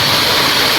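River water flowing in the mountains, a loud, dense rushing wash close by with no break over the short span.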